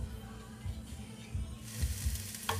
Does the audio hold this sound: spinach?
yes